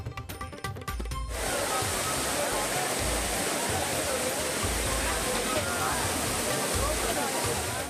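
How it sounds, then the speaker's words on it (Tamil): Water thunders down the Courtallam waterfalls in a loud, dense, continuous roar that fills the scene, starting abruptly after a brief bit of other sound. "குற்றால அருவிகளில் ஆர்ப்பரித்து கொட்டும் தண்ணீர்."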